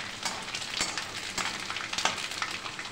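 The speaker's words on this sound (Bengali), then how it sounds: "নারকেলটা হালকা ভাজা হয়ে গেছে" Chopped coconut fries in a little oil for a spicy flattened-rice snack, a soft steady sizzle up close with occasional crackles and light stirring, alone without talk.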